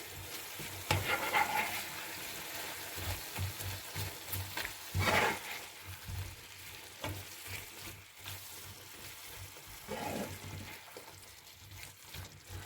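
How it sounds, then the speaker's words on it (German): Onion and zucchini frying in a pan while a utensil stirs them, a soft continuous sizzle broken by scraping, clattering stir strokes at irregular intervals, close up and fairly quiet. "Jetzt geben wir dazu Zwiebel und nochmal umrühren."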